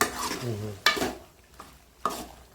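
Blood and intestine fry in the Kongu style being stirred in a pan, with a spoon scraping and clinking against the metal in a few distinct strokes over soft sizzling, close up and with no talking.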